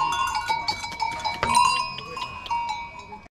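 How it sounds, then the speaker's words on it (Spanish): Goats at a morning livestock fair in Liendo, with bells clanking and jingling repeatedly at close range and a few bleats among them. "Míralas, qué guapas son las cabras."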